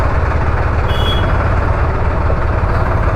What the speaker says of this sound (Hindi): न्यू ट्रैक्टर है बिल्कुल।